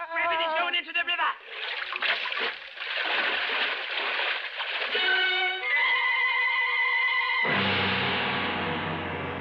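A man's fall into a river in a 1940s radio drama is staged as a rush of splashing water mixed with dramatic effects and swelling sound, loud and sustained.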